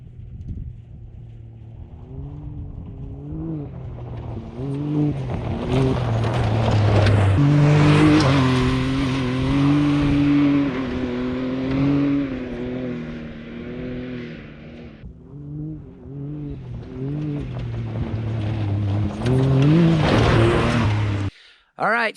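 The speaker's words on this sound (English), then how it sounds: "you saw the machine going through the whoops" A 2021 Can-Am X3 XRC side-by-side runs through whoops, its engine droning and rising and falling steadily as it bounces over the bumps, loud and close for about twenty seconds.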